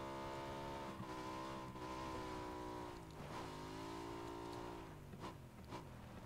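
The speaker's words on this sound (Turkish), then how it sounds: "Motora bak be, ne güzel çıkıyor." A motorbike engine in the battle-royale game PUBG, climbing a hill: a steady, droning engine tone holds for several seconds, then dips and rises again as the load shifts. No one talks over it.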